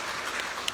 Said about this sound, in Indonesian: Ini Masya Allah, biasa tepuk tangan dong.